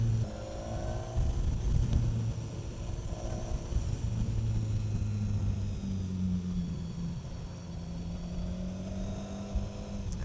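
A BMW S1000 XR motorcycle (2016, 160 hp) accelerates hard on a ride, its engine a steady loud rumble with rising and falling tones and wind noise throughout.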